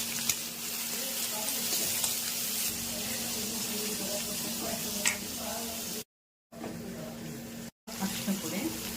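A tempering of chana dal, curry leaves, green chilli and onion sizzles steadily in hot oil for poori saagu, a constant close frying hiss with brief gaps, while a voice talks over it.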